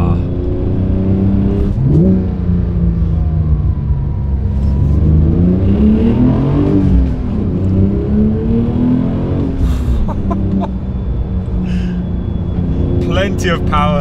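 A Porsche 911 Sport Classic with a manual gearbox pulls hard on a mountain pass at sunrise, its engine note climbing and falling through the revs, steady and close under continuous talking.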